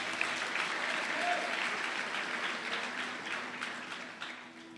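Church congregation applauding during a sermon, a steady wash of many hands clapping together that holds for several seconds before thinning slightly toward the end.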